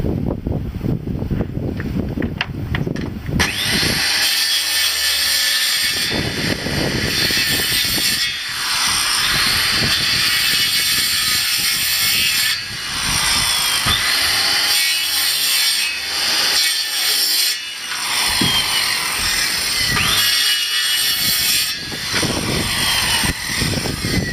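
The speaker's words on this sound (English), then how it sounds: "then we just follow that line with the saw" A power saw cuts wood along a marked line with a loud, rough, continuous grinding buzz. The pitch and load shift repeatedly as the blade bites into the wood and eases off, and the sound runs for over twenty seconds with no voices.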